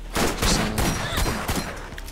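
Rapid, sustained gunfire in the Borderlands video game, dense overlapping shots and bursts, loud and close, with no talking.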